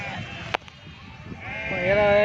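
Sheep and lambs bleat at a sheep and goat market in Gudur, with a few close, wavering calls rising near the end over steady crowd noise and a voice.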